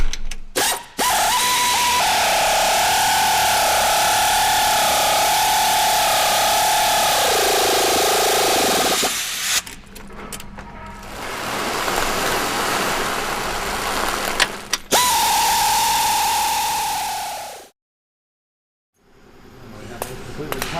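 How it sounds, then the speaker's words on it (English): A power tool whirs and ratchets while tightening spoke bolts on a 200mm segmented rotor cassette, loud sustained droning bursts with wavering pitch, separated by brief pauses and ending with a short silence. "we can go ahead and tighten up the spoke bolts now"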